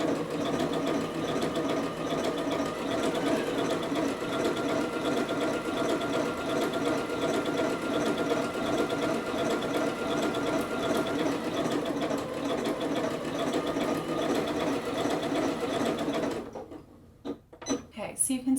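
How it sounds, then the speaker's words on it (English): A sewing machine stitches a double overedge stitch along knit fabric, a continuous close rhythmic whirring drone lasting about sixteen seconds before slowing into a few uneven knocks as it stops. "This is the double over edge stitch."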